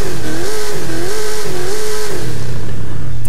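A 2013 Cadillac XTS limo with a drag build and a 7-speed gearbox revs alone, its engine note swelling and dipping in a wavering rhythm before fading out near the end.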